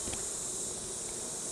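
Honey bees buzz in a dense, steady drone as they are brushed back into a hive, close and continuous with a faint scrape early on.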